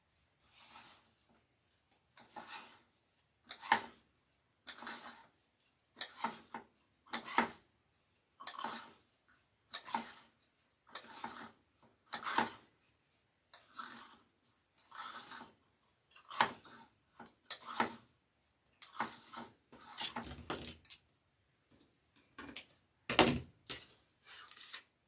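Scissors snip through deco mesh for a wreath in a quiet room, about twenty close, crisp crunchy cuts in an uneven but steady rhythm with brief pauses between them.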